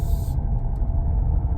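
Steady low road rumble from inside a Mercedes W211 E320 CDI diesel car driving at night, a continuous droning cabin noise with no voices.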